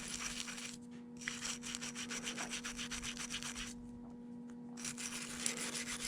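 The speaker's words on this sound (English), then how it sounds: "Let's take this little brass brush, get in there and scrape on it, scratch on it" Brass brush scrubbing and scraping a Yamaha 650 V Star carburetor bowl, close rasping strokes in bursts with short pauses, over a faint steady hum.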